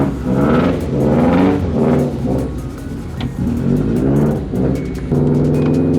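A 2004 Subaru WRX STI engine rumbles loud and close from inside the car on a short drive around the corner to a gas station, swelling and easing through several revving surges and gear changes.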